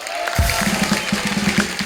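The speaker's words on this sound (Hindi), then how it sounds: "इस बात के लिए जोरदार तालियां।" Studio audience on a Hindi comedy talk show gives loud applause, a dense sustained wash of clapping throughout with some cheering mixed in.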